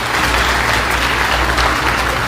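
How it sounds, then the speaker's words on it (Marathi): Loud, dense applause from a large crowd of women at a women's gathering in Kamthi, steady and continuous throughout with no talking over it. "या चार व्यक्तींसाठी जोरदार टाळ्या वाजवा"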